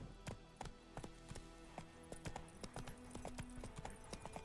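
Roach, Geralt's horse in The Witcher 3, gallops in a quick, steady clip-clop of hooves, close and rhythmic, with faint game ambience underneath.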